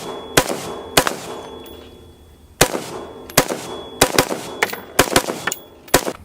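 A SCAR rifle chambered in 7.62x51 fires a string of sharp, loud single shots at uneven spacing, some in quick pairs, each with a short echoing tail. There is no talk.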